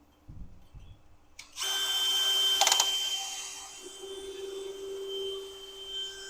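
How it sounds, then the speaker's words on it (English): A drill bores a 1/4-inch hole into a concrete window opening, starting abruptly with a loud, sustained high whine that holds steady for several seconds, close up after a few faint handling knocks. "We're going to drill a 1/4-inch hole into this window opening"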